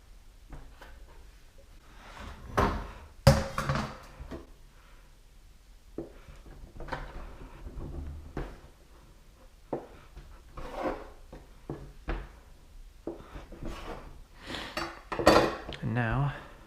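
Knife cutting scallion pancake dough into four pieces on a board, producing scattered close taps, scrapes and clatters of utensils, with a voice talking at times.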